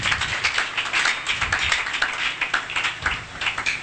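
A church congregation claps together in a dense, steady patter of many hands, fairly loud and continuous with a rhythmic pulse, no talking over it.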